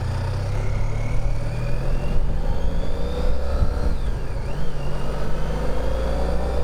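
A Honda Pan European ST1300 motorcycle rides along steadily, its engine a smooth continuous drone blended with road and wind rush, heard up close throughout without talk.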